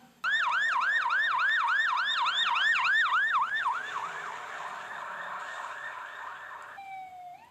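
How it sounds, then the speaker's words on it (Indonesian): A toy fire truck's electronic siren wails in a fast, repeating up-down sweep, loud and near, then softens into a steadier tone before cutting off. "Lihat di sini ada truk pemadam kebakaran."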